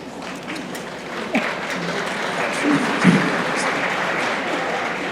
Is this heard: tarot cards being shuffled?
no